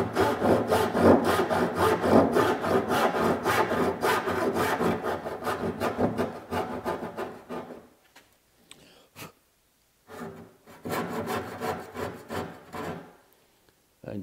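A hand saw trims about half an inch off the wood tongues of a blanket chest panel so a breadboard end fits, with quick rhythmic back-and-forth strokes, a pause, then another run of strokes.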